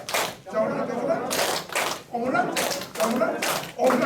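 A seminar audience plays a rhythmic clapping game, with bursts of loud clapping in a repeated pattern alternating with short pauses and a voice speaking or chanting along.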